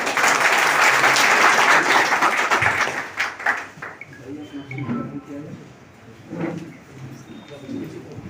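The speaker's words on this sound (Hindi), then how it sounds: "ताली से स्वागत कीजिए।" Audience applause welcoming the chairman at a political meeting in Belaganj, Gaya, a dense burst of clapping that fades after about three seconds into murmuring and voices talking.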